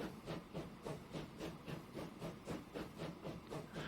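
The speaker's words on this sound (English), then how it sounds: "I must just be hearing this train" A steam locomotive in the video game Transport Fever chuffs in a steady, even rhythm of about three hissing exhaust beats per second, faint and distant.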